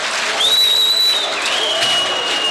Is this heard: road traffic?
no